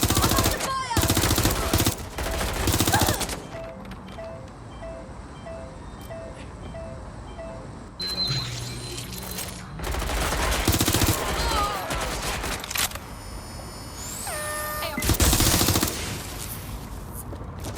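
Bursts of automatic gunfire and single shots ring out in a Watch Dogs: Legion combat scene, loud and close, coming in several clusters separated by quieter stretches with game music and effects.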